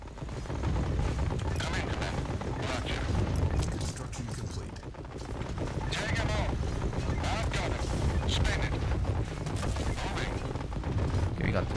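Gunfire in the real-time strategy game Tempest Rising, sounding as dense, sustained volleys of shots over a constant loud rumble of battle noise, with no break across the stretch.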